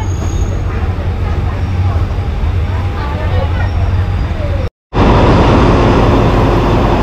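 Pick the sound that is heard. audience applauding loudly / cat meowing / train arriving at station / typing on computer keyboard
train arriving at station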